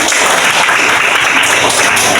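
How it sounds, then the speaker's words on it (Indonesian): A classroom of students applauds a student group after its presentation, a dense, loud burst of clapping filling the room throughout, with no voices over it. "Beri tepuk tangan untuk kelompok."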